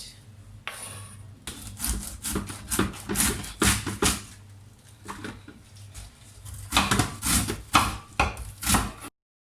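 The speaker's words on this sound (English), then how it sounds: "This is how I cut my salad." A knife chops cabbage and cucumber for a simple salad on a wooden board, giving close, loud bursts of rapid crunchy cuts and scraping strokes with short pauses between runs.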